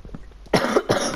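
Two heavy, close coughs in quick succession, loud and raspy, preceded by a few faint softer sounds.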